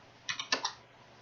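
Typing on a computer keyboard while entering commands in AutoCAD: four quick, close key clicks in an uneven burst lasting about half a second, then quiet.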